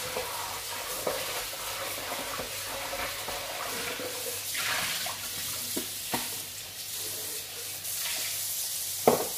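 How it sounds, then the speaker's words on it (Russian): Water splashes and trickles steadily in a basin as it is poured out of a flowerpot, with occasional clinks and knocks of a container, close by and moderately loud. "Отсюда я воду выливаю."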